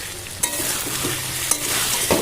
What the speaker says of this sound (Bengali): এবার এই জিনিসটাকে কিন্তু বেশ ভালো করে কষিয়ে নেব